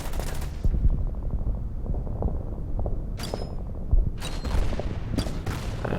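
Artillery and mortar shells burst in the Order of Battle wargame during a Marine landing at Saipan, a steady rumble of distant explosions with several sharper, louder blasts standing out.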